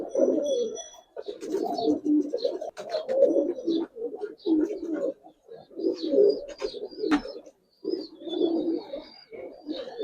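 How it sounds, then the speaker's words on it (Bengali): Giribaz and colored domestic pigeons, including an old pair kept at home, coo in repeated, pulsing bursts, close and steady across several seconds with brief pauses between phrases. "জোড়াটা ভাই আমার বাসার পুরানো কবুতর"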